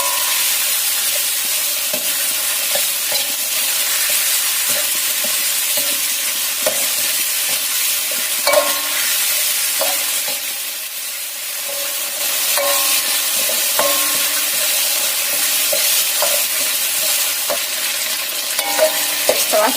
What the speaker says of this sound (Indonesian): Masak sampai cumi, sosis dan cuminya matang.